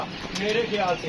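Pigeons cooing in a loft, a short burst of soft, throaty coos heard close by, with someone speaking over them.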